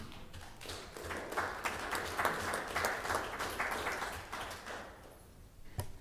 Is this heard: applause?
yes